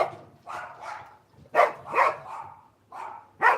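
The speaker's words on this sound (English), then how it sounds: "He just barks at the other dog, at the neighbor's dog all the time." A dog barks repeatedly at a neighbor's dog, about seven sharp, mid-pitched woofs in irregular pairs and singles, moderately close and fairly quiet, with no voices over them.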